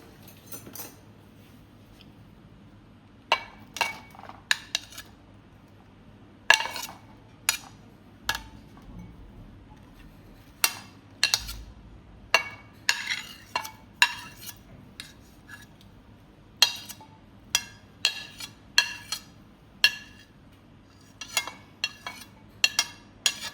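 Cut fruit being mixed in a bowl with a utensil, sparse sharp clinks and scrapes in irregular bursts against a quiet background, close and alone.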